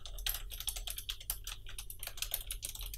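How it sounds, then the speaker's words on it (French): Rapid typing on a Razer Ornata Chroma gaming keyboard with mecha-membrane switches, a dense run of close, crisp clicky keystrokes in an uneven rhythm, heard alone without talk. "Je vais tout de suite vous faire écouter le son de ce clavier, le son des switches"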